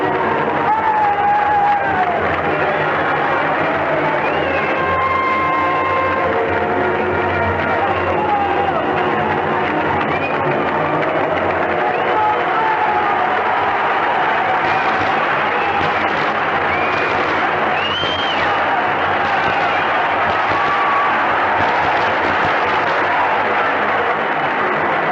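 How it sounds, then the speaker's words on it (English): A basketball arena crowd at a 1973 NBA semi-final between the Baltimore Bullets and New York Knicks keeps up a dense, continuous roar of cheering and applause. The sound is loud and sustained, with a commentator talking faintly underneath. "The crowd can tell you more than we can about the excitement, crowd talking it up."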